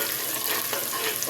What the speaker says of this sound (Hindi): ये प्याज हल्की सी ब्राउन करनी है मैंने